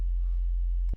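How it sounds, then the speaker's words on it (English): A steady, pure low sine tone hums alone for about a second, then cuts off abruptly with a soft click. "From a pure sine wave, we've gone from this"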